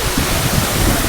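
Agaya Gangai waterfall in the Kolli Hills of Tamil Nadu pours down in a steady, loud, close roar of rushing water, with a dense, unbroken wash and no pauses.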